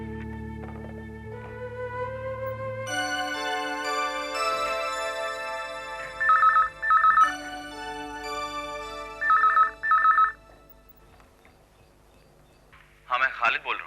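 A telephone rings in two pairs of short electronic bursts, loud and close, over a sustained musical score.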